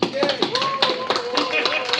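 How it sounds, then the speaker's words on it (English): Brief burst of audience applause at a Dragon Con panel on ethics in virtual reality, scattered claps over a crowd, with a voice cheering and speech running through it. "He's the only one who gets applause."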